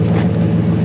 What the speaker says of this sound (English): Go on, rev it up a bit.